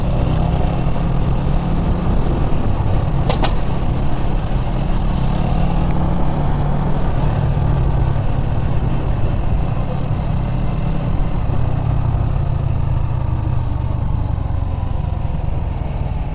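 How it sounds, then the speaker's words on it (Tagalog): Steady street traffic in Barangay 2, Poblacion, Guiuan, Eastern Samar, during a vesper-day stroll: a continuous close rumble of car and motorcycle engines passing and idling, with a couple of brief sharp clicks early on. "Traffic pa din dito."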